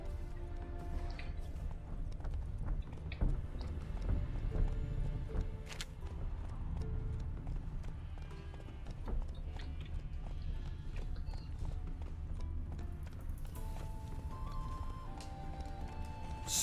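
Hooves of Roach, a horse in The Witcher 3, clip-clop in a steady walking rhythm while someone talks over them, with game music and ambience running beneath.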